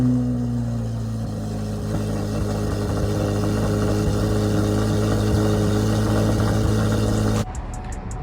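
A modified C8 Corvette with Venturi intakes and a Valvetronic exhaust, fired up and idling: a deep, steady, loud engine rumble with a strong low drone that persists for several seconds before cutting abruptly near the end.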